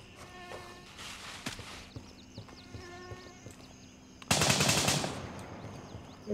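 Bursts of automatic gunfire in the military shooter Gray Zone Warfare, with scattered shots and a loud, dense volley near the end over a faint background hum.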